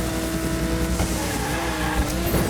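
Racing-game engine roar and tire squeal as a toy car drifts in Hot Wheels Unleashed, a steady loud mechanical whine with screeching texture running throughout without talk.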